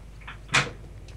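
A door opening or closing in the video game Prop Hunt, a single short soft thump with a brief rustle, heard alone against a faint background.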